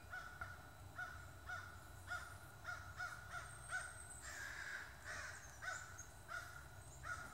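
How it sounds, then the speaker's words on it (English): A crow caws angrily and insistently in woodland along a deer trail, its harsh calls repeating in a steady string of short bursts at moderate distance with no talk over them. "That is a pissed off crow."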